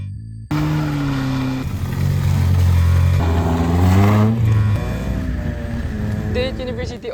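Rally car engine droning and revving loudly on a muddy dirt course during a student shakedown practice event, steady close engine tones shifting pitch, with people talking over it.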